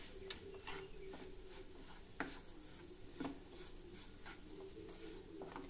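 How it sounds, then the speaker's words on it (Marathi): A spoon scraping and stirring a cooked dal mixture for Ganesh festival prasad in a pan, soft irregular clinks and scrapes over a faint sizzle, quiet and close. "पुन्हा हे नीट मिक्स करून घेऊ।"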